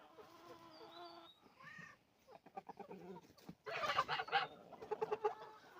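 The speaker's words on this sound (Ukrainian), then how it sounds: "Курочки наші. Повставали за їсточки їм дам. Півтушки наші співають." Backyard hens and roosters clucking and calling together near the feeding spot, a busy overlapping chorus of clucks with a louder burst of calls toward the end.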